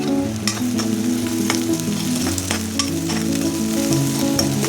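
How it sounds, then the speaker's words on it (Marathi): Chopped onion fries in a pan with a pinch of salt, giving a steady, loud, close sizzle with light stirring scrapes and no voices. "आता तो टाकते ह्याच्यात आणि मग कांदा टाकते."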